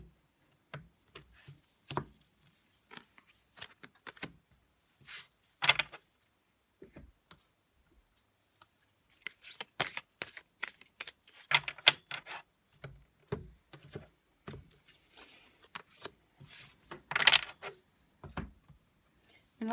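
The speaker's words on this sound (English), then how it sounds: "let's pull 3 cards here." Tarot cards shuffled and drawn for a three-card pull, heard as sparse clicks and soft slaps that come in uneven bursts, with a louder flurry of snapping card edges toward the end and no talking.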